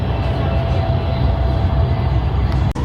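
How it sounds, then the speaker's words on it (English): A steady, loud rumble of a high-speed train ride toward Haikou City fills the cabin, an even low drone with a brief dip near the end. "I'm taking the high-speed train, heading one stop into Haikou City."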